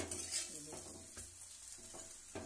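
An aloo paratha fries in a light coating of oil on a pan with a steady soft sizzle, while a few dull scraping knocks mark it being slowly turned so the oil spreads.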